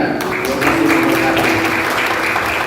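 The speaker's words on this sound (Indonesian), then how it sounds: "Sekali lagi tepuk tangan" A church congregation breaks into applause during a sermon, a dense steady wash of many hands clapping close by, continuous through the moment, with a faint tonal hum underneath.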